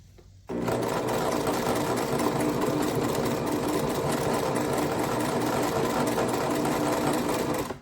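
After a brief quiet start, a sewing machine appliqueing a double wedding ring quilt whirs at a fast, steady stitching rhythm. It is close and continuous, with no voice over it.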